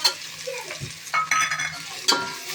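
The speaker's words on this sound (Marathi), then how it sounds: "कांदा टोमॅटो भाजून घ्यायचा" Onion and tomato sizzle in hot oil while a spatula stirs and scrapes the pan in a few distinct strokes, close up with no voices.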